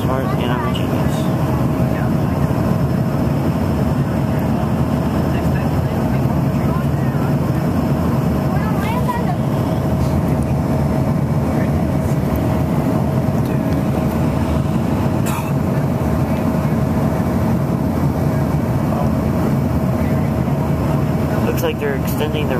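Frontier ERJ-140 regional jet landing on a runway in Milwaukee, a continuous loud cabin roar of engines and airflow with a steady tone running through it and a couple of brief knocks.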